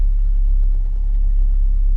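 A 1969 Ford Bronco Sport 4x4 engine runs with a deep, steady low rumble at idle, loud and close, with no voices over it.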